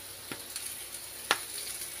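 Onions sizzle softly in hot oil, a steady crackling hiss broken by a few sharp pops, close by with no talking.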